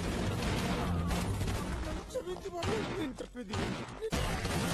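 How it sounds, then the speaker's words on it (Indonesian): Gunfire in an action film shootout between police, military and a hideout gang: dense, chaotic bursts of shots and impacts, loud, with brief lulls and a narrator's voice talking over parts of it. "Ajay bersama dengan pasukan polisi dan militer datang menyergap tempat persembunyian Nayak hingga baku tembak pun terjadi di antara dua kubu tersebut."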